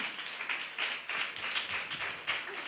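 A church congregation claps in praise, many hands striking in a loose, repeated rhythm of fairly close, crisp bursts with no voices over them.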